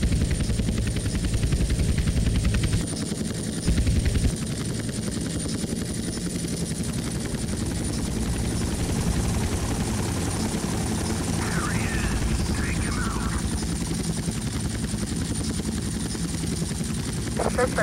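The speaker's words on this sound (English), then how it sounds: "helicopter" A helicopter in the video game GTA Vice City thrums steadily and loudly throughout, its rotor drone continuous with a brief dip near the start and faint chirpy tones midway.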